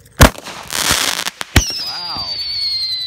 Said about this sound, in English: here with the fireworks